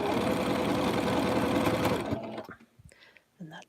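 Sewing machine stitching a dog bed with a noisy bobbin, a loud rapid mechanical whir and rattle running continuously for two seconds before stopping, followed by faint handling noises and a brief soft voice.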